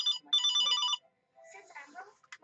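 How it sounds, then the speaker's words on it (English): A telephone rings close by, two bursts of a bright electronic trill in the first second, followed by a brief pause and then a person speaking. "I gotta take this phone call."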